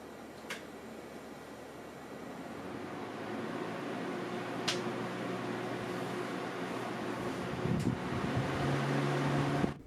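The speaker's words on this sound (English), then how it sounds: "On the highest fan setting, the MillerTech fan averaged 45 decibels from about 2 feet away to the side." A MillerTech 1648 16-inch oscillating brushless DC pedestal fan runs on its highest setting, a steady soft whooshing hum with a faint tonal drone that swells slightly, heard from about two feet away to the side.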